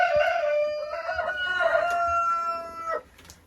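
A rooster crows with a long, loud, drawn-out call over softer hen clucking in a chicken coop during frosty weather, close and clear with no talk.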